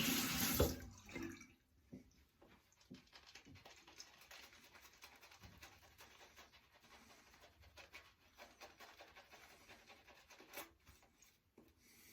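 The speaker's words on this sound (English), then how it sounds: "I'm just going to quickly lather up here" Faint, steady rubbing and swishing comes from a brush working Ariana and Evans shaving soap into a lather, close and quiet after a brief louder knock at the start, with no speech.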